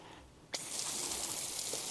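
Water from a shower starts abruptly after a brief quiet moment, then runs steadily as a continuous close hiss.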